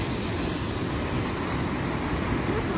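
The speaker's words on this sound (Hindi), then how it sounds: "पानी का आवाज़ बहुत ज़्यादा है यहाँ पे" Water rushes loudly at a waterfall, a dense, constant roar that fills everything without a break.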